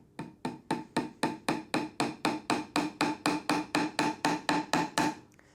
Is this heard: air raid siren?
no